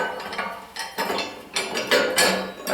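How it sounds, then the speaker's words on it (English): A spanner tightens a threaded bar on a four-leg continental café table base, making a run of close metallic clinks and ratcheting scrapes in uneven bursts, with no voice. "Just using the spanner just to tighten that up."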